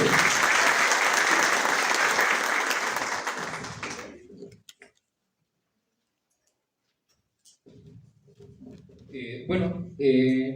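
Loud audience applause at an education sciences congress session welcoming a speaker, steady for about four seconds then fading into silence, followed by voices talking.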